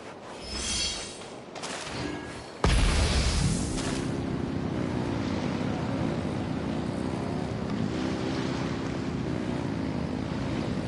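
Roaring boat engines in Genshin Impact: a muffled rumble breaks into a loud, steady, churning drone that holds unbroken for several seconds, dense with rushing wind and water noise.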